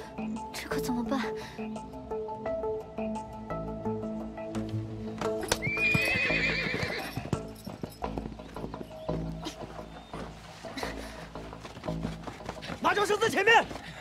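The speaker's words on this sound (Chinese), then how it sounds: "里面有马叫声" Horses neigh and whinny several times amid clip-clopping hooves, with calls near the middle and a sharper burst at the end, while people talk over the scene.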